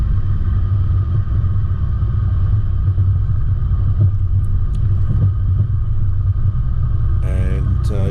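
An all-wheel-drive car in high range, center diff unlocked and no low range, works hard up a steep rocky track near Mt Sarah, its engine a steady, loud low rumble throughout with a brief higher noise near the end.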